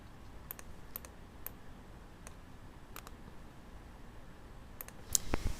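Sharp computer mouse clicks while working in Silhouette Studio software, a handful of isolated clicks spaced irregularly, close and fairly quiet, with a louder cluster at the end.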